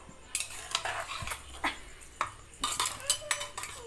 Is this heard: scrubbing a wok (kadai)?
yes